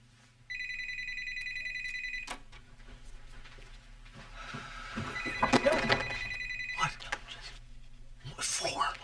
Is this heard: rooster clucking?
no